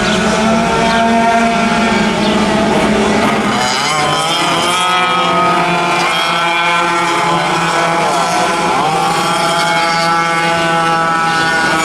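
Vintage 150cc sidewinder karts race at a motorsports park, their engines buzzing loud and high-pitched under constant strain, with overlapping pitch sweeps as they pass close by, and no voices over them.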